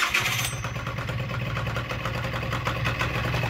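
A Malaguti Crosser scooter under rebuild kicks into life, a short starter burst giving way at once to a steady, fast-pulsing small-engine idle, close and fairly loud.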